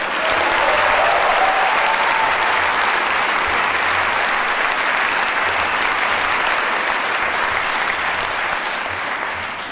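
Sustained, loud audience applause fills a hall at a Socialism 2010 event on breaking the siege of Gaza, a dense, steady clapping roar lasting the whole stretch and fading only slightly at the end.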